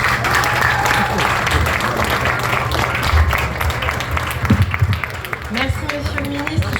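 Audience applause at an event in Bandalungwa, a dense, steady clapping from a crowd, fairly loud, with voices and shouts mixed in throughout.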